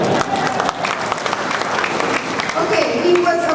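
An audience claps at a formal gathering, dense steady applause filling the room, close and loud throughout, with a voice speaking briefly over it.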